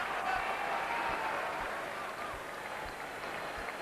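Stadium crowd roaring steadily at a 1999 Middlesex rugby sevens match with San Isidro attacking, a broad continuous wash of cheering with a commentator talking over it.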